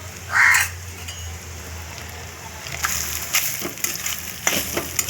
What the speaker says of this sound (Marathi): ते तुपात भाजायचं आहे आपल्याला